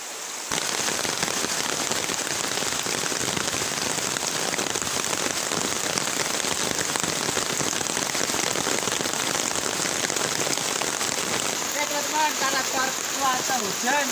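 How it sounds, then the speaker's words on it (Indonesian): Steady rain falls near a flooded river, a dense, constant patter that holds loud and even from start to finish, with what sounds like a faint voice in the last few seconds. "Cuaca hujan, kita istirahat dulu"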